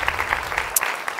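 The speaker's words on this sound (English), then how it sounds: "let's give the home church a clap offering tonight" A church congregation at a women's conference claps for the host church, a short burst of steady applause from a crowd indoors.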